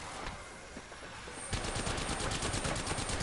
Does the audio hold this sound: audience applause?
no